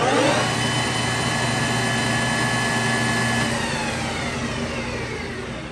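A 2008 Clausing Metosa C1340S 13x40 gap lathe spins at its top speed of 2500 RPM, giving a loud, steady, even whine and hum with no talk.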